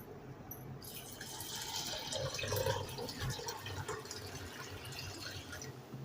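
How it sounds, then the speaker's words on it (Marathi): Water poured over soaked sorghum and urad dal in a bowl, a soft continuous splashing and trickling stream that swells in the middle and fades, quiet and close. "आता आपण याच्यामध्ये पाणी घालूया."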